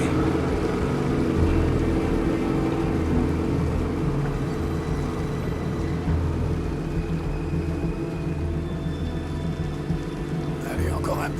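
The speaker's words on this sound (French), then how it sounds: "Bon, aidons-nous du moteur pour tirer cette chose." A motorboat engine runs steadily to tow something, a continuous low drone with droning harmonics throughout, moderately loud and near, with some clatter near the end.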